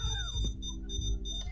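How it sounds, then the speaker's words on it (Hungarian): An alarm in the video game PayDay 2 sounds as a rapid series of electronic, siren-like pulses repeating about twice a second over low background rumble. "Na, megszabad a riasztó."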